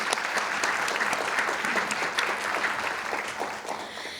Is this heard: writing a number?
no